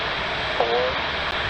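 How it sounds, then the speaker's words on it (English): SpaceX rocket engines firing at full power at liftoff of the Starlink 5-1 launch, a steady, dense roar that fills the whole clip with only slight swells and no voices. "Engines full power. And liftoff of Starlink 5-1."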